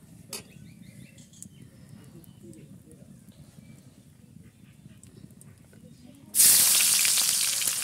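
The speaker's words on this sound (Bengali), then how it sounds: "ফোড়নে দিয়েছি তেজপাতা, শুকনো লঙ্কা, জিরে, ভালো করে ভেজে নেব" Bay leaf, dried chilli and cumin hit hot oil in a kadai with a sudden loud sizzle that keeps hissing, after a quiet stretch where someone talks.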